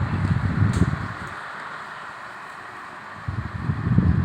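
An electric fan with its blades just cleaned, running at speed one, makes a steady low whoosh of moving air. The rumbling gusts are louder at the start and the end and dip quietly in between. No one speaks.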